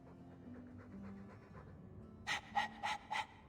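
Dog panting in the video game Dragon Age 2: a few quick, breathy pants in a short burst near the end, preceded by a quieter stretch of soft in-game ambience.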